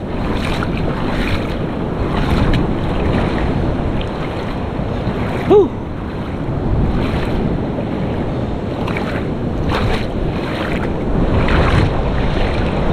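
Big sea waves roll in on a shoreline as a storm approaches, with strong wind buffeting the microphone. The surf roars and rumbles constantly, with gusty wind noise swelling over it throughout.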